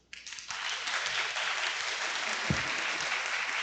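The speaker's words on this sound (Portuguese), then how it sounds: "Eu vou pedir uma nova salva de palmas." An audience at an academic conference starts clapping after a brief quiet moment and keeps up a full, even round of applause, close and continuous.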